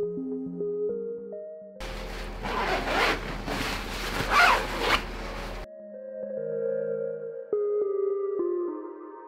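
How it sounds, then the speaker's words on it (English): A sewing machine runs in one close, continuous burst of about four seconds, stitching a seam on a cosplay tunic, with quiet handling of fabric before and after. "I switch this to the other side and sew down this side"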